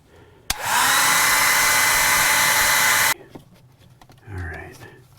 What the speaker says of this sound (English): now we're just going to heat up the tank with this old hair dryer that I keep in the shop